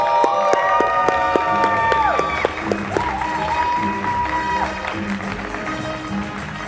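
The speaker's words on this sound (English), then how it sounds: "please join me with a round of applause to the stage to Carla Arnaiz from JP Morgan" Audience applause and cheering fill a conference hall as a panel moderator is welcomed on stage at a trans and nonbinary allyship event, a steady crowd roar mixed with whoops and some talk over it.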